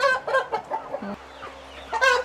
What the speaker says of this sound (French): C'est le genre de coq qui se cache en arrière de ses poules.